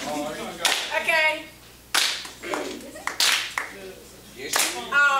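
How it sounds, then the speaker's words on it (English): A creative writing class claps hands in rhythm, a few sharp group claps spaced across the moment, alternating with speech and singing over them. "y'all just clap like this"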